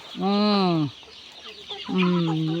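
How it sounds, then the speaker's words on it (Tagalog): Native chickens on a backyard farm give two long, loud, harmonic calls a second apart, close by, with faint farmyard noise between. "Grabe ang alaga ni Dudong na manok."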